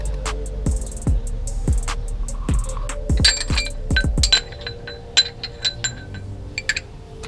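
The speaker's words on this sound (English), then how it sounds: "we're gonna take out all these little nuts and bolts from the bottom of the oil pan" Small nuts and bolts being removed from the oil pan of a 1995 Ford Mustang SN95 V6, a series of close metallic clinks as hardware drops onto a hard surface, followed by scattered lighter rattles and taps.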